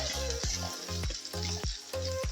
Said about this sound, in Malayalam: അപ്പോൾ നമുക്ക് അവിൽ കുറേശ്ശെയായിട്ട് ഇട്ട് കൊടുക്കാം. ഇതിങ്ങനെ ഇളക്കിക്കൊണ്ടിരിക്കണം.